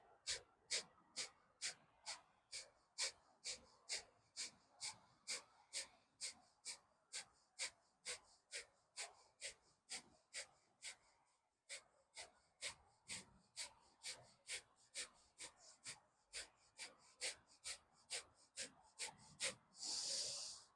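Kapalabhati yoga breathing, a long run of forceful, evenly paced nasal exhalations, about two per second, close and distinct, briefly pausing midway and ending with a longer breath.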